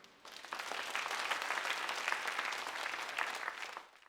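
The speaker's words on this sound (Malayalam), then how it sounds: "നന്നായിട്ട് കൈയടിച്ചേ" A church congregation at Mass claps together, a dense burst of applause that swells quickly, holds steady for a few seconds and then fades out.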